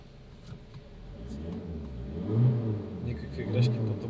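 A Skoda Fabia 1.9 TDI diesel is revved twice, each throttle blip swelling the engine note up and falling back to idle, loud and close.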